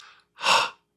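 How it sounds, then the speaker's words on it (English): A single short, breathy exhale voicing the letter H, close and clear, with a faint breath just before it. "So H is breath."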